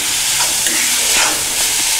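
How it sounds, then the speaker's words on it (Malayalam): Sliced onions sauté with salt for a street-style green peas egg masala, a steady close sizzle and hiss broken by scraping stirs of a spoon against the pan, no voices. "സവാള വഴറ്റുന്നതിലേക്ക് നമുക്ക് അതിനാവശ്യമായ ഉപ്പും കൂടെ ചേർത്ത് നന്നായി ഇളക്കാം"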